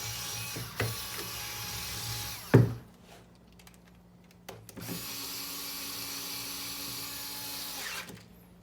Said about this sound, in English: I'm going to go ahead and screw them all in, starting here.